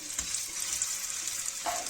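Eggplant and meatballs sizzle steadily in hot oil in a pan for Turkish islim kebab, a close, continuous frying hiss with faint stirring clicks and no talk.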